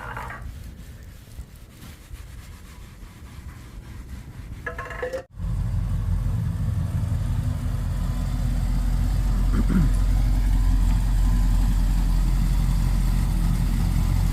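A freshly washed car's engine idles steadily as it rolls back into a shop, a low continuous rumble that steps louder after a brief knock, with no talking.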